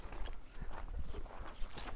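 Hooves of a young purebred horse kept for kokpar (ulak) horseback games clop softly and irregularly on the ground nearby, a quiet scattering of short thuds with no talk over them.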